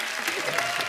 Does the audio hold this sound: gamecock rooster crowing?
no